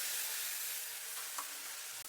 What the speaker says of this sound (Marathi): ते तेल टाकले मी काही आणि त्यामध्ये टाकते मसाला